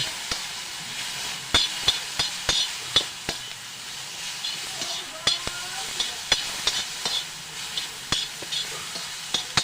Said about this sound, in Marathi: कांदा फ्राय झालेला आहे आपला